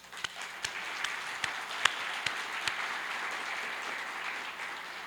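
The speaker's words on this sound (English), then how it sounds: "give another round of applause to all our speakers" An opening ceremony audience applauds the speakers, a faint, steady patter of many hands with a few louder, sharper claps standing out near the start.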